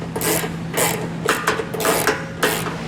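A ratchet snugs up the bolts of a trailer hitch receiver on a 2022 Subaru Outback wagon, with several bursts of rapid mechanical clicking under a steady low hum, close and fairly loud.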